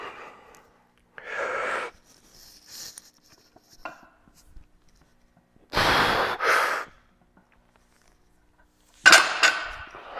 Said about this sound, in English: So I will demonstrate a rep, and at the top I will rebreathe.